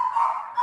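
A single short, high-pitched yip or whine from a dog, close by and fairly loud, lasting under a second with no talk over it.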